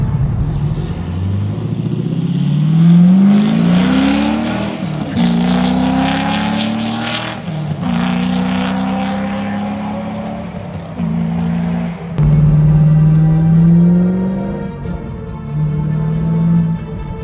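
A Chevrolet C5 Corvette's engine drones steadily from inside the cabin while driving, its pitch rising and falling through gear changes and shifts in throttle, loud and continuous with no voices.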